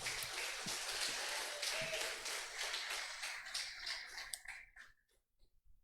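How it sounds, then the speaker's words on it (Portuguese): A church congregation applauds in a dense, even wash of clapping that thins into a few scattered claps and then fades out near the end. "Vamos aplaudir pela palavra"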